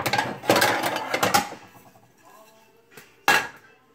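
A metal pan is pulled out and set down for cooking fish, a few close clanks and scrapes of cookware followed by a sharp knock.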